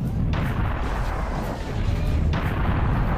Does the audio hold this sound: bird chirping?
no